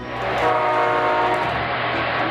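A model electric train with a horn at a hobby expo sounds a sustained, loud, steady horn tone with a rumbling running noise underneath, lasting a couple of seconds without pause.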